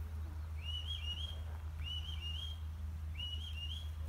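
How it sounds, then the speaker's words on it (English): Sheepdog handler's command whistle at a Scottish sheepdog demonstration: three repeated rising-and-falling two-part whistled calls, clear and fairly loud, over a steady low outdoor rumble with no talk. "The dog knows his whistle sound."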